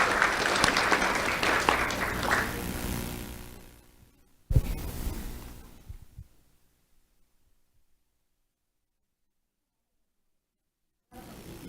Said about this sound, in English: Let's have a round of applause for Maria Andres.